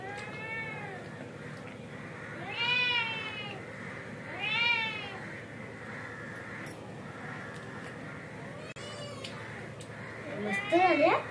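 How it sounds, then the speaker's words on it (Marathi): A cat meows several times, with drawn-out rising calls near the start and middle and a sharper one at the end, while people talk quietly in the background of a home kitchen. "मांजर आले बघ"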